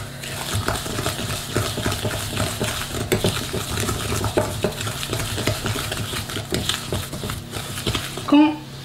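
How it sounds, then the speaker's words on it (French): A wooden spoon mixes butter and sugar for Christmas cookies in a bowl, making a continuous close scraping and stirring sound for several seconds, with a louder knock near the end. "On mélange, le plus facile c'est avec une cuillère en bois."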